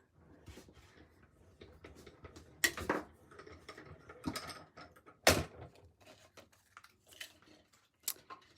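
A hand-cranked die-cutting machine is turned, giving soft ratcheting clicks and gear rumble with a few louder clunks and knocks, close and quiet, no speech.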